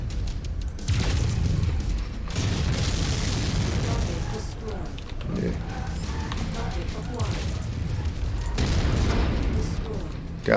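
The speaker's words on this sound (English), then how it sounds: "Incoming missile." Heavy booms and crashing explosions from incoming missiles roar almost continuously in Mechwarrior 5 combat. The bursts are loud and dense, with a few sharp pauses between volleys.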